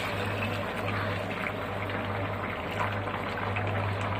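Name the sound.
hot water poured into pot of sautéed vegetables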